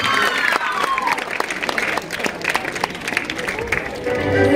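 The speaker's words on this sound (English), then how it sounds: "Children, give him a big applause." Audience applause at a school ceremony honoring a student, steady crowd clapping at moderate volume with some voices and a faint tonal sound mixed in behind it.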